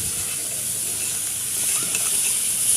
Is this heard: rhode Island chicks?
no